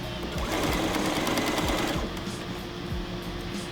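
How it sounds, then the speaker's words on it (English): A sewing machine stitches fabric for a face mask in a steady, fast run of needle strokes, loud and close, easing slightly partway through with no voices. "just keep folding and sewing, folding and sewing"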